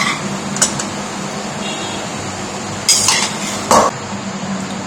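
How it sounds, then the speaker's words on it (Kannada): A spoon stirs Mexican rice into a tempering in a metal pan, producing sparse, sharp clinks and scrapes over a steady background hum, with a few louder knocks against the pan. "ಅದೇನು ಒಗ್ಗರಣೆ ಹಾಕಿದ್ದೀವಿ ಅದಕ್ಕೆ ಇದನ್ನು ಮಿಕ್ಸ್ ಮಾಡೋಣ"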